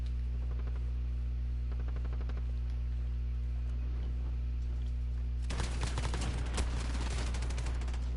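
Gunfire in Call of Duty: Modern Warfare during online multiplayer, rapid bursts of automatic fire in short clusters over a steady low hum, then a denser, louder stretch of shots and impacts.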